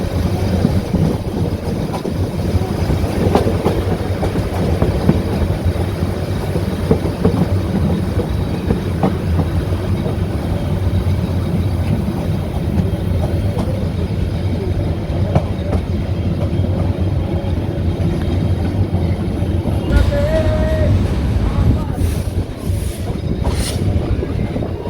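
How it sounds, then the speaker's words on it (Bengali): Passenger train on the Dhaka to Chittagong line rolling steadily toward a station as it slows, with a continuous loud rumble of wheels and carriage noise, a brief wheel squeal near the end, and no talk. "জানি না কেন জানি স্টেশনের অনেক আগে থেকেই গাইস ট্রেনটা স্লো করে দিছে।"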